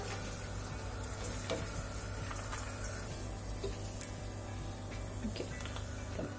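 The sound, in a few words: almonds frying in a pan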